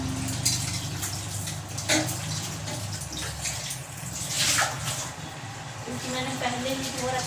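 Okra is washed under a running kitchen tap, giving a continuous splashing stream with scattered drips and clatter, while someone talks over the water.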